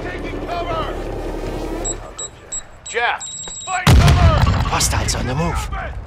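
Gunfire and mortar strikes in a Call of Duty: Modern Warfare II DMZ combat zone: sharp, loud reports and booming blasts, with a beeping alert and radio-style voices talking over the action.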